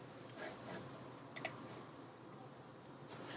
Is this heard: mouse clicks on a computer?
yes